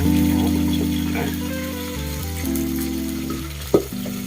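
Oil frying and spattering in a covered pan on a home stove, a steady loud sizzle with a sharp pop or clatter near the end.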